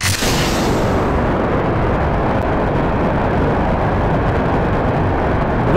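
A rocket lifts off in Kerbal Space Program with a loud, sustained broadband engine roar that fills the whole stretch at steady intensity, with no voices over it.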